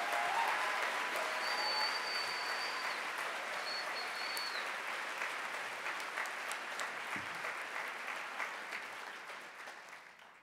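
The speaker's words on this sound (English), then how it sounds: "I want us to applaud Randolph Riley for his courageous work." Sustained applause from a university forum audience fills the room, a steady wash of many hands clapping that slowly fades toward the end.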